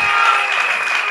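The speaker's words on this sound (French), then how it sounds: "Applaudissons pour le Seigneur" A church congregation applauds in praise of the Lord during a worship service, with loud, dense clapping that fills the room steadily from start to finish.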